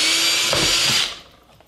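A power drill bores through an MDF board jig, a loud, close high-pitched whine with a grinding bite partway through, then the motor winds down and fades out over the last half second.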